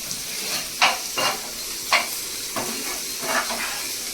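Liver frying in a pan gives a steady sizzling hiss underneath, broken by several sharp scraping stirs of a utensil against the pan at irregular intervals.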